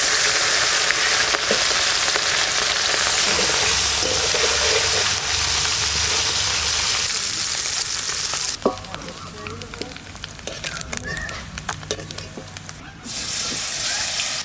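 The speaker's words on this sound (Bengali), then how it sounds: "তেল গরম হয়ে গেছে এবার মাছগুলো দিয়ে" Fish frying in hot oil in a Bengali kitchen, a loud constant sizzle and hiss that turns more crackly and uneven partway through, with clattering of utensils.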